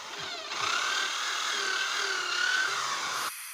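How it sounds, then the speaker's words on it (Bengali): An electric drill bores holes into a jackfruit wood window frame, a steady whining motor drone held for a few seconds at close range before cutting off. "এটি ড্রিল মেশিন দিয়ে ফোটা করা হচ্ছে"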